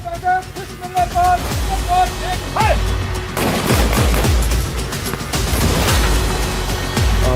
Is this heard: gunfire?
yes